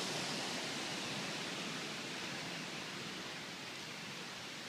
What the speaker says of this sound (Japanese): Rainbow の滝、今 Big Island にいます